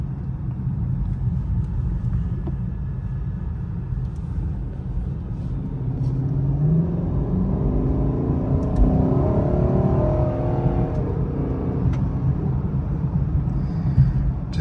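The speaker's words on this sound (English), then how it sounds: "I'll let y'all hear what acceleration sounds like a little bit" A 2021 Lexus LC500 engine building under acceleration through a turn, a steady low rumble that swells into a rising drone midway and holds, heard from inside the cabin with no talking.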